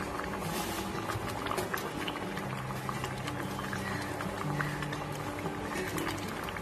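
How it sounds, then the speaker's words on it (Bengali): Mung dal with potatoes boiling in a pot, a dense continuous bubbling and popping close by, with no voices. "মুগ ডালটা দেখো খুব ভালো করে ফুটে গেছে।"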